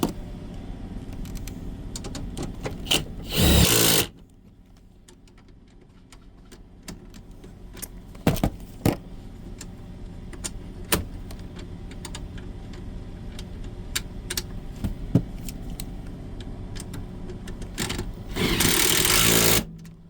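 Removing the last two bolts while replacing the battery on a 2020 Ford Transit 350: two short, loud whirring bursts of a power tool, one early and one near the end, with scattered light clicks and handling noise between.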